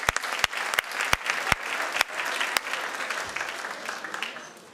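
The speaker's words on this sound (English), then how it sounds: "Give him a round of applause" Audience applause at a mind-reading stage show, a few loud close claps standing out over a broad spread of clapping that fades gradually toward the end.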